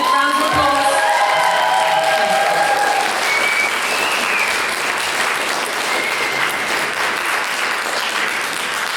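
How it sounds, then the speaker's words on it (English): A crowd at an awards evening in Wales breaking into loud, sustained applause with some cheering and a few raised voices at the start, settling into a full, steady roar of clapping. "Give us a nice clap, big round of applause."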